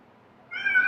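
A domestic cat gives one short meow, faint rustle first and then a clear rising call, close and with no talk over it.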